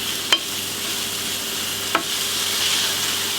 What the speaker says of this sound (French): le but étant de faire revenir les oignons avec le beurre